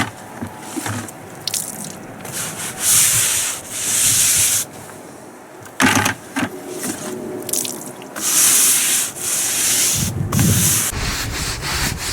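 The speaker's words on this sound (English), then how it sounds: "we're going to be applying it with a stiff bristle brush" A stiff bristle brush scrubs cleaner into a wooden deck in loud, close, rhythmic strokes, bursts of wet rasping separated by brief pauses, with no talking.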